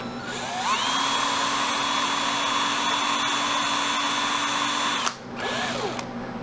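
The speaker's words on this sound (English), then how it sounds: "Apples drill easily." A power drill spins up and runs with a steady high whine for several seconds while drilling into Granny Smith apple pieces, cuts out briefly, then revs again and winds down.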